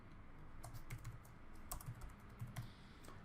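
Keys tapped on a computer keyboard while a password is entered for a MongoDB login, a quiet, sparse run of separate clicks with short pauses, close and alone.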